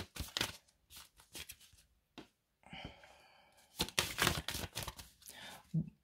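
Tarot cards are shuffled close by in quick, papery bursts of riffling and sliding, separated by short pauses and quiet breaths.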